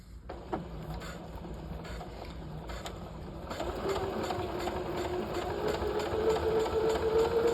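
A sewing machine runs steadily while stitching a half-scale jacket welt pocket, a close mechanical whirr with rapid repetitive ticking that starts hesitantly and then builds into a louder, continuous run.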